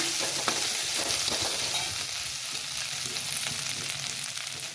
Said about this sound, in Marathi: असं छान शेलो फ्राय करून घ्यायचं